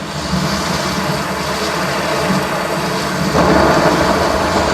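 A rain and thunder sound effect made for the film Lisabi: The Uprising: steady rainfall under deep rolling thunder, swelling louder near the end.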